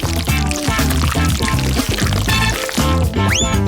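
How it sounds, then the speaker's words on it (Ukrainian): Melted liquid chewing gum pours into a hollowed-out cake layer, a short run of liquid splashing and filling heard under bright, bouncy music. "Тепер витягнемо з коржа серединку і заливаємо всередину рідку жуйку."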